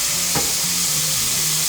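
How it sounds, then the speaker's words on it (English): Onions with canned diced green chilies sauté in a pan as a filling for stuffed peppers, a close, steady sizzling hiss without voices, with one brief clink partway through. "Onions. Saute this down until it's nice and translucent."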